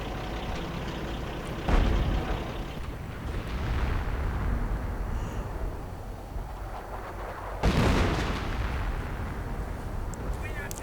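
Hummel self-propelled artillery battery firing in a Company of Heroes-style strategy game: two heavy booming salvos several seconds apart, each with a sharp blast and a long rumbling decay, under steady background battle noise and commentator talk.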